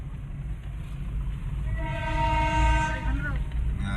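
A train passes close by with a loud rumble, and a sustained horn blast sounds midway through the passage. Faint voices can be heard under the noise.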